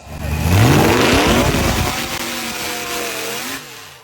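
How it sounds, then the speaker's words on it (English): A car engine rigged to drive a double chainsaw revs up hard and close, roaring loudly. The pitch climbs and then settles into a steady snarling drone that fades slightly at the end. "These guys are attached a car engine to a chainsaw."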